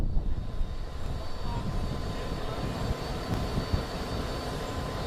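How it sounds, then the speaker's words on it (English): Royal New Zealand Air Force T-6 Texan aircraft of the Black Falcons display team at an air show in Tauranga give off a steady low engine rumble, sustained and somewhat distant. "It's the T6 Texan Black Falcons from the Royal New Zealand Air Force."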